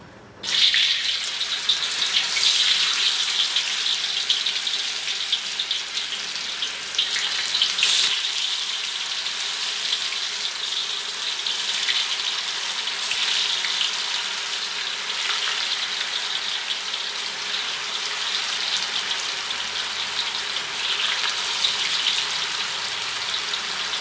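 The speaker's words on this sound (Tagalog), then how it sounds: "Prito muna natin yung tokwa." Continuous hiss and crackle of tofu frying in hot oil, steady and close, with occasional louder pops and no voices.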